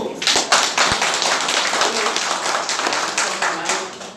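A crowd applauds with dense, continuous clapping that carries on for several seconds at a steady, moderately loud level.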